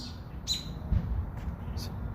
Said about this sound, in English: one bird was being chased off by another bird up there.